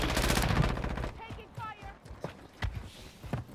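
Rapid automatic gunfire from a Call of Duty match bursts loudly at the start, followed by scattered shots and movement sounds while players talk over it.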